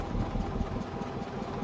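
A large trawler or ferry boat on the Pasur river idles with a steady, close, low engine rumble that holds at an even level throughout, with no talk over it.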